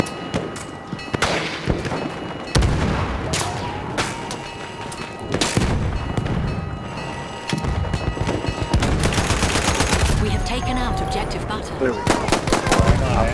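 In the Battlefield 1 beta's Rush mode, loud bursts of rifle and machine-gun fire crack in rapid, dense volleys with booming impacts among them. The firing goes on almost nonstop, with voices faintly mixed in.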